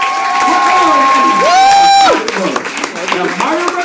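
Comedy club audience applauding and cheering in a dense burst, with a whoop rising above the crowd midway and a voice talking over the fading noise.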